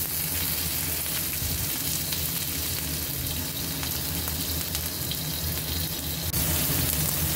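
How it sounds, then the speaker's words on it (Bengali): Tomato frying in mustard oil in a kadai, a dense, continuous sizzle with faint ticks of movement in the pan throughout. "ভেজে নিলাম 2 সাইডটা।"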